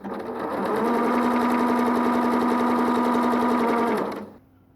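A sewing machine runs steadily for about three seconds while stitching pintucks with twin needles, a loud, even mechanical whir that starts up and then stops cleanly, with no voices.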